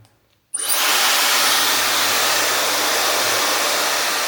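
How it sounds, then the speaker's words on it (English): Hair dryer blowing on curly 3b/3c hair during a wash-and-go routine, switching on abruptly after a brief near-silence and then running as a steady, loud, close whoosh with no talking. "And then I'm going to blow dry it"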